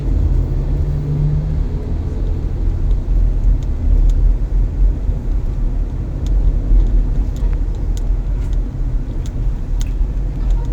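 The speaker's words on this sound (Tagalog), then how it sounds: "So medyo matraffic dito." City road traffic on Roxas Boulevard heard from inside a moving car, a steady low rumble of engine and road noise with faint occasional clicks and no talking.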